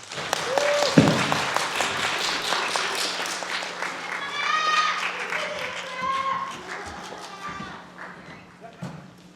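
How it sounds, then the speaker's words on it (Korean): Audience applause welcoming a speaker at a community sharing event, clapping heard under talking voices and a few scattered sounds, moderate in level and fading toward the end. "큰 박수로 김수지 선생님을 초대합니다."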